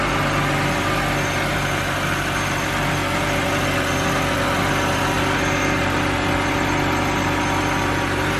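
A BMW car engine idles steadily, a constant low mechanical hum with even vibration that stays level and unbroken throughout, close by with no voices.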